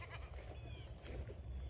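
Goats bleating on a homestead, a faint, short call or two heard at a distance over a steady background hum.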